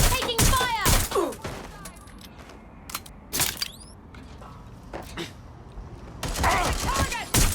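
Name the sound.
gunfire in video game Watch Dogs Legion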